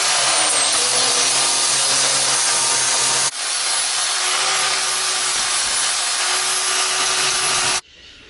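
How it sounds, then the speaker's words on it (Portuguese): A loud, high-pitched angle grinder screeches steadily against metal, sanding down a weld on a Volkswagen Kombi, briefly dipping midway, then stops abruptly near the end. "eu vou passar a lixadeira para dar uma limpada na solda"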